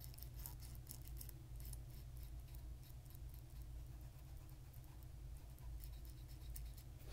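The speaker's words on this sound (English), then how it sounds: "We're just going to go key by key, getting rid of all the little spots." Quiet, close-up tapping and scratching at computer keyboard keys during slow key-by-key cleaning, small clicks and patters over a faint steady hum, with no voice.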